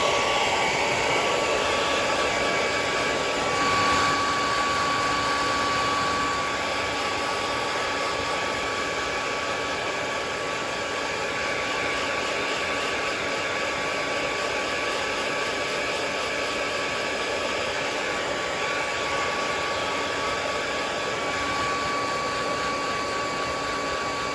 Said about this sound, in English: I'm probably gonna have to blow dry it really quick just because there was not enough time for it to dry.